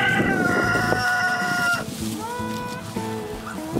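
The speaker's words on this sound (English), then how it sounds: "That was supposed to be a hen, but that turned out to be a rooster." A rooster raised as a mistaken hen chick crows nearby among a flock of chickens on a field outing, its loud drawn-out call followed by softer clucking and other fowl calls.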